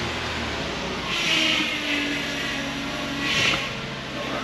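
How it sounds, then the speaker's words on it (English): Power steering on a Nissan Murano, with air still in the system after a rack and pinion replacement, gives off a thin whine under a broad engine hum, with two louder surges as the wheel is turned. "There's still a little bit of whining going on."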